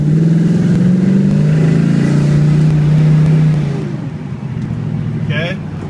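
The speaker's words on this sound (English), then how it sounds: "Now this motor makes tons of power." A 1968 Chevrolet Chevelle SS 396 V8 rumbles loud and close as it drives, a steady deep engine drone that eases off near the end.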